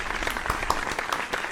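A burst of studio-audience applause plays as a sound effect, a dense patter of many hands clapping at moderate volume, short and continuous.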